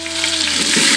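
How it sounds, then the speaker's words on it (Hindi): Five red chillies and crushed small onions hit hot oil with mustard seeds, cumin and garlic, a dense, close sizzle that holds steady and swells slightly over about a second. "इसके बाद 5 लाल मिर्च और कुचले हुए छोटे प्याज डाल लें।"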